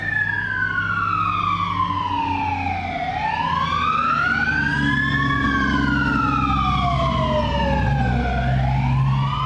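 Two fire engines pass with wailing sirens, the sweeping tones rising and falling continuously and loudly over a steady low engine rumble and road noise.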